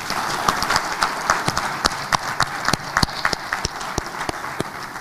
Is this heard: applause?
yes